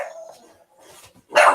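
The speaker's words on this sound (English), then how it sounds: "You want to keep barking at me." An American Bully dog barks close by in a few short, loud bursts, with one sharp bark closing the sequence.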